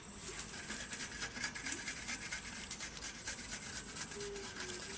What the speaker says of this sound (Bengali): এবার আদা টমেটো ঘষে নিচ্ছি